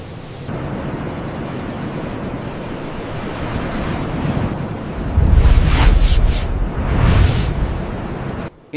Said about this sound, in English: The longer the wind pushes across open water, the larger the waves can become.